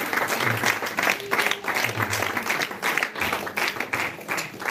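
A church congregation applauds in a steady, dense wash of clapping that runs through the whole stretch, with brief sung or spoken tones rising faintly beneath it.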